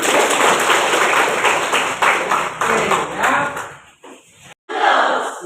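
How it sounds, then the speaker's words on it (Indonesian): Classroom applause from students in an Indonesian school lesson, a dense burst of many hands clapping with some cheering voices, loud and sustained, thinning near the end with a brief gap before resuming. "Oke, tepuk tangan dulu."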